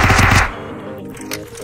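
Rapid automatic gunfire in the VRChat video game, a loud close burst of quick repeated shots lasting under half a second, then fading into a softer scuffle.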